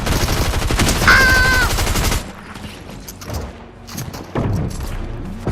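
Fortnite gunfire rattles out as a loud, rapid burst of automatic shots, then gives way to scattered thumps and a few more shots. Faint talk sits underneath.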